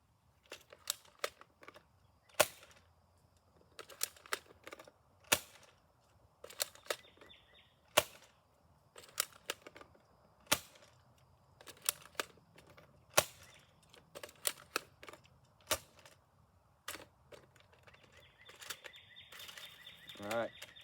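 A modded Nerf Firefly blaster firing foam darts, each shot a sharp snapping pop, spaced irregularly in small clusters over about twenty seconds, close and fairly quiet with faint handling noises between.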